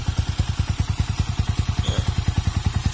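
A stock motorcycle fitted with a sidecar and an aftermarket pipe idles nearby, its engine thumping in a fast, even rhythm of pulses with a rattly edge, alone without talk.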